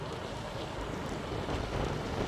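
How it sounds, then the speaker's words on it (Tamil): Wind blows across a misty mountainside in the Kolli Hills, a broad steady rushing noise buffeting the microphone and growing slightly stronger toward the end, with no voices. "காத்து மேல அடிக்குதம்மா மலை சாரல் சீத்தா."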